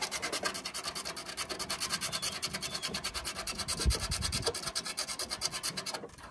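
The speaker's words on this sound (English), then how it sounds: "Sanding off the paint." Rapid, rhythmic scratchy rasping of sanding paint off the inside of a truck, steady and close.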